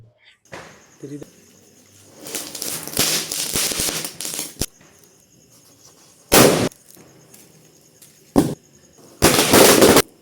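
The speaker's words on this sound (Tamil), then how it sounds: "பட்டாசு வெடிக்கிற சவுண்டை மட்டும் கேட்டு என்ஜாய் பண்ணுங்கள்" Diwali firecrackers burst in loud, sharp cracks and crackling volleys, some in rapid clusters, with quieter gaps and faint background noise between explosions.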